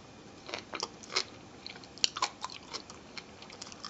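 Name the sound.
biting and chewing baked asparagus with melted cheese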